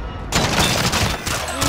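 Video game gunfire, a dense burst of rapid shots and thuds, kicks in sharply after a brief quiet moment and stays loud and continuous, with a player's voice mixed in.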